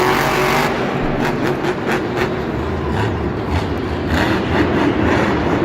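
Grave Digger monster truck roaring through its run at a Monster Jam stadium show in Atlanta, a loud continuous engine rumble with crowd and arena noise throughout and no clear breaks.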